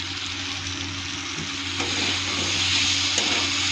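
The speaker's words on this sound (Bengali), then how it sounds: "এখন মশলাটা সুন্দর ভাজা ভাজা দিচ্ছি" Spices fry in a hot pan, a constant close sizzle with a few scraping stirs mixed through, loudest and busiest in the second half.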